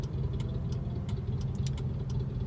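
A car driving down a road, heard from inside as a steady low engine and road rumble with faint intermittent ticking clicks over it, no talking.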